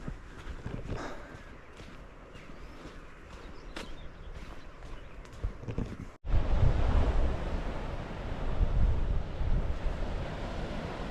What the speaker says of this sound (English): So there we have it, down on the beach.